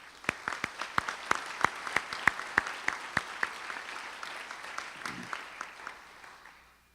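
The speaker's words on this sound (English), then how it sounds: "give everybody a round of applause" Applause at a donors' banquet: sharp individual claps stand out, some close by, over a softer bed of clapping, gradually thinning and fading out toward the end.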